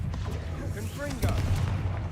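A Confringo fire spell explodes in Hogwarts Legacy, giving a brief burst with a rising crackle amid a dense, rumbling game soundscape; a speaking voice is present in the mix.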